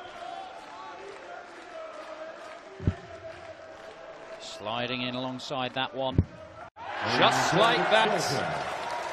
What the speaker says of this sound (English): the crowd's roar tells you